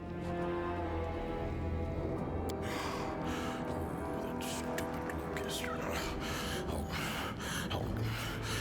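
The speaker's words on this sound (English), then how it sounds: "You hear labored breathing interspersed with disgruntled muttering." Heavy, labored breathing from a character in the Pathfinder: Wrath of the Righteous video game, with gasping and snorting breaths under a dense, continuous layer of game sound.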